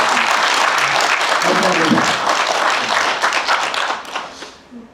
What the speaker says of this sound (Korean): 큰 박수로 우리 선생님한테 감사를